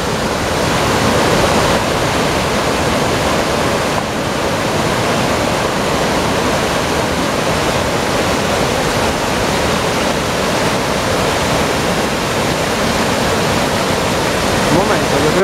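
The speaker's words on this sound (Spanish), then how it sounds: "Que hay una pedazo cascada." A waterfall at La Estrada, swollen after torrential rains, pours with a loud, steady, unbroken roar of rushing water that fills the whole stretch.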